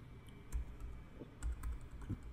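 Keys on a computer keyboard are pressed a few times, soft close clicks and low thuds spaced irregularly, faint against a quiet room hum.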